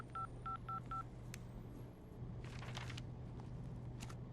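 Four quick beeping keypad tones, evenly spaced, followed by a single beep and then rustling and clicks over a steady low hum.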